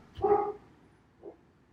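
A small female dog barks indoors: one loud, close yap followed about a second later by a softer, shorter yip, with quiet room tone between.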